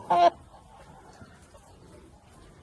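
A single loud, nasal goose honk sounds up close at the start, then fades to faint background noise.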